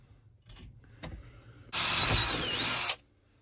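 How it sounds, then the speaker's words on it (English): A power drill with a quarter-inch bit bores into the door of a 1973–79 Ford F-series truck. It gives one loud, steady whine of about a second, then stops, after a few faint clicks of handling. "I usually start with a regular drill bit, like a quarter inch or so, and drill it out."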